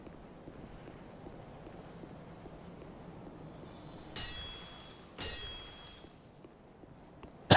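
A bell in Dark Souls 3 rings twice with bright metallic clangs about a second apart, each ringing out and fading over a low background hum.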